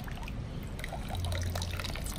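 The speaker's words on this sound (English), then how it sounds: "we will use the provided syringe and clean tap water to backwash the filter and clean it out" Tap water forced by syringe back through a Lifestraw filter during backwashing, giving a steady close trickling and pouring wash of liquid that lasts the whole stretch and swells slightly toward the end, with no talking.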